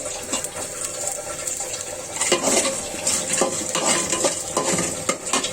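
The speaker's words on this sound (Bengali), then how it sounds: "নেড়ে দিচ্ছি" Dried loitta fish stirred in a pan with okra and bitter gourd over panch phoron, a steady close sizzle with repeated scraping and clinking of a spatula against the pan, no voices.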